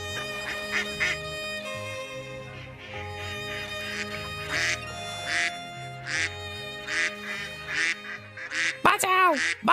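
Cartoon ducks quack repeatedly in short nasal bursts over a musical background, with voices talking in between and a sharp sliding effect near the end.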